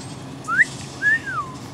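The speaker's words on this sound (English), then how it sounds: "Why you whistle at me, girl?" Whistle sound effect from a match-3 home design video game: two short rising tones, the second longer and sliding up and then down, clear and close over a faint background hum.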